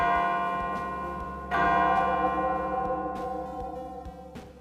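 A clock chime rings out in the video game Arknights, a bright bell-like tone with a second, louder strike about midway that then slowly decays, layered over a sustained musical drone.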